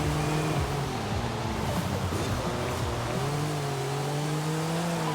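A Porsche 935 race car with a rear engine and rear-wheel drive, driven in Forza Horizon 5, gives a loud, steady engine drone whose pitch climbs and falls as it revs and shifts, close and continuous with no talk.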